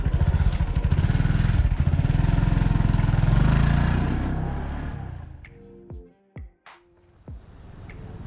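A motorcycle engine runs loudly and steadily nearby, then fades away, leaving a few scattered knocks and clicks in quieter surroundings.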